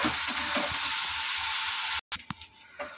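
Spices frying down in oil in a pan for a koshano masala, a steady close sizzle with a few soft stirring scrapes, briefly cut to silence near the end before the sizzle returns.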